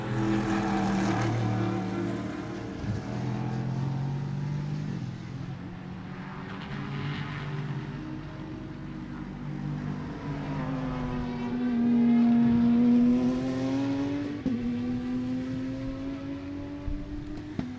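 A race car in the Big Bore field at the Sebring Turkey Trot roars past, its engine note swelling from a distance to a loud close pass and then fading, with a rising then falling pitch and another engine droning behind.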